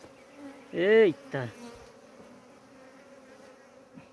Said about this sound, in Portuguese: Tira as abelhas, que as abelhas tá braba.